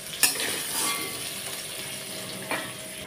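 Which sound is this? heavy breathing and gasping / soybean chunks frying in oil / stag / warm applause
soybean chunks frying in oil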